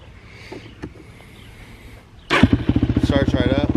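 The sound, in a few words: Yamaha YFZ 450 ATV engine starting after top end rebuild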